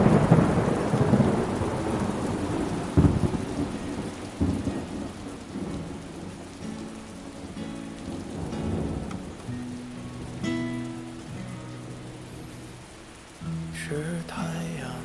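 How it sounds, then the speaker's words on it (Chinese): Heavy rain falls in a steady hiss while a loud thunderclap rolls in near the start and fades into distant rumbling, the storm continuing under faint background music. "外边下这么大雨"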